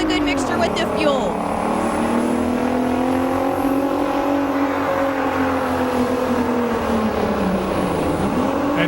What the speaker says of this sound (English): the V12 Detroit, backed by that Allison transmission, really launched hard